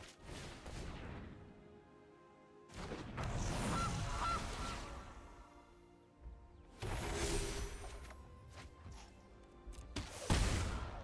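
A goose card in the digital card game MTG Arena gives loud honking calls that come in two or three noisy bursts, mixed with booming impact effects and heavy game sound.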